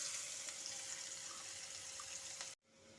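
Chopped onion sizzles in a pan while an egg roast is being made, a steady hissing fry that holds level and faint for a few seconds before cutting off abruptly.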